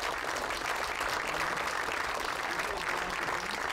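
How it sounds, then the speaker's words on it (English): Steady audience applause honoring Paul Forster, co-founder of Indeed.com, at a First Tuesday talk event; a continuous wash of clapping from a roomful of people, moderately distant and even throughout. "So I think a round of applause for Paul"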